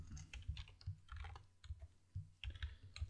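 Typing C# code on a computer keyboard, with steady close keystrokes and thumping key presses in a quick uneven rhythm and no talking.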